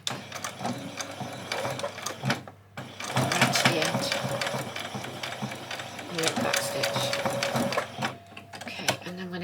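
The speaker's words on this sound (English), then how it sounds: "I'm just going to run the machine right along on that hemline" Sewing machine running a fast, steady stitching whir along the hemline of a fabric apron, with a short pause before it resumes, while someone talks throughout.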